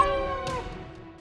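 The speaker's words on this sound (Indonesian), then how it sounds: "Aduh, ada kucing lagi." A cat meows in a house where meat is being cooked with pineapple, a single drawn-out harmonic cry that fades over about a second, with faint voices and kitchen noise behind it.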